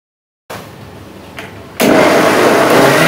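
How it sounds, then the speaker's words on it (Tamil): Mixer blender beating cream to make butter and ghee, a close whirring motor drone that starts abruptly, runs briefly, then jumps to a louder, harsher high-speed whine. "ஃபஸ்ட்டு இப்போ நம்ம ஒரு 2 பிளெண்டு பண்ணிட்டோம்."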